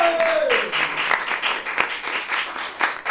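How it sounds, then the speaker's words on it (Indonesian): Audience applause at a school program about non-academic achievement, a short burst of uneven clapping that swells and fades, with a faint tone sliding down at the start. "Tepuk tangan lagi dong."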